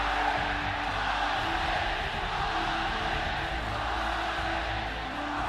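At an esports event, a home crowd roars and cheers after their team wins a match. The steady, dense wall of cheering and whooping fills the space throughout, with no talk standing out above it.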